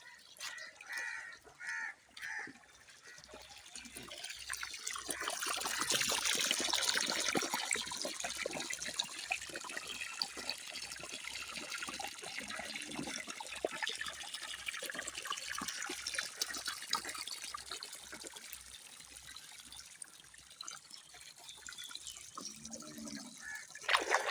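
Water flows and trickles steadily through a small channel in a village beside a little bridge, a continuous close wash of running water with faint rhythmic ticking and occasional outdoor sounds.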